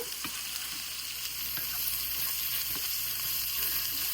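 Constant close sizzle of bottle gourd skin frying in a pan, a soft hiss with occasional light taps from stirring.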